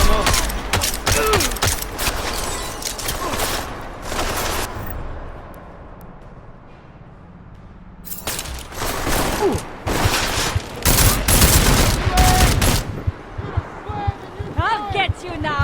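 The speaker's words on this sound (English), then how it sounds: "He's using a gun!" Gunfire in the video game Deus Ex: Mankind Divided, loud bursts of rapid shots in two clusters separated by a brief lull, with character voices talking over the action.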